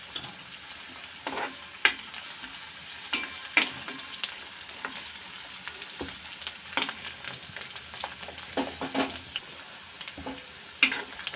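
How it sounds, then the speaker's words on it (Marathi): Finely chopped onion fries in oil with a soft continuous sizzle. Repeated sharp scrapes and clanks of stirring break in at irregular intervals, close and moderately quiet, with no talking. "यामध्ये एक बारीक चिरलेला कांदा टाकणार आहोत कांदा मस्त असा परतून घ्यायचा तेलावरती"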